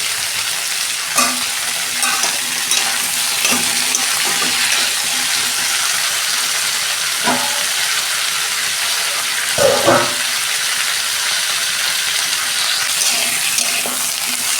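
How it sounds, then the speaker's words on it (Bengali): Mixed vegetables and potato frying together in a pan give a loud, steady sizzle throughout, broken by a few clattering knocks of stirring at intervals, with no talk. "সব সবজিগুলো আমি একসঙ্গে ভেজে নেব 2 মিনিট। আলুটাও দিয়ে দিচ্ছি।"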